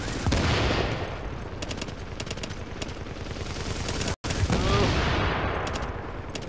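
Sustained light machine gun fire in the shooter game The Division, loud rapid bursts rattling almost without pause, cut by a brief gap before the firing resumes.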